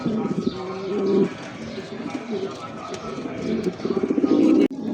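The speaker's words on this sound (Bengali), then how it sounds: "এই মুহূর্তে দেখতে পাচ্ছেন তিন পিস কবুতর" Pigeons, including a Danish Helmet pigeon, coo in repeated low throaty rolls, close by and overlapping, while a voice talks over them.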